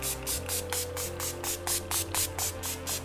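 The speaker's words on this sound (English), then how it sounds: "I'm just going to be using the Collection Primed and Ready Makeup Fixer Spray" Collection Primed and Ready makeup fixer spray misting in about ten quick, evenly spaced bursts, close and soft, each a short airy hiss over a faint steady hum.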